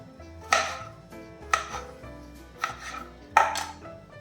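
A knife slices bitter gourd into long pieces on a board, four separate sharp chops spaced about a second apart, close and clear with no talking.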